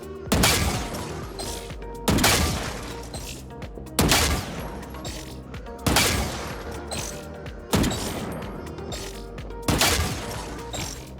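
Crouch shooting in Valorant, six separate bursts of rapid gunfire about two seconds apart, each sharp onset trailing off before the next, loud and unaccompanied by talk.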